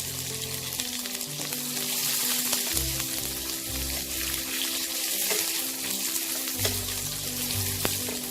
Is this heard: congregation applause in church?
no